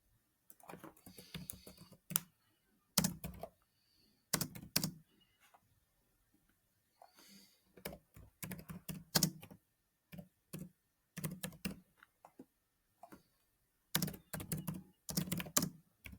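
Fingers type on a computer keyboard in quiet, close bursts of rapid clicks separated by short pauses.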